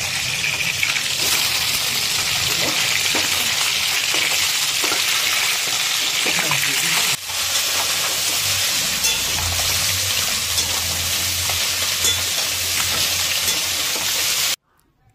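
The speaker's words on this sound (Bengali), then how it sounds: "ফাইনালি কিন্তু আমাদের মাছ ভাজা হয়ে গেছে" Fish pieces frying in hot oil in a pan for a Bengali fish recipe, a continuous bright sizzle with occasional clinks of turning, the frying close and steady throughout before cutting off at the end.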